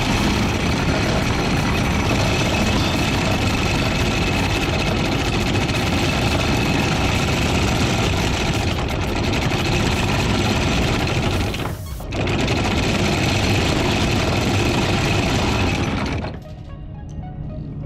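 Boat engine idling while the captain holds the boat steady in place, a loud, continuous droning rumble with a brief dip midway, cutting off near the end.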